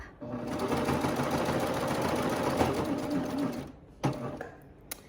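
A serger sewing machine overlaps stitches on a garment, running in a fast continuous whir for about four seconds and then stopping with a couple of mechanical clicks, close by.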